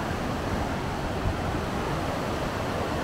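Heavy rushing water of the Rhine current at the Rhine Falls in Switzerland, a steady dense roar close by with wind buffeting the microphone, no voices.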